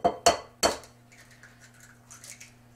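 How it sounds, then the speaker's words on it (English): Three sharp taps of an egg being cracked against a bowl for macadamia cheesecake batter, a quick clinking pair then a third, followed by quiet kitchen sounds. "Now I'll crack 1 egg in there."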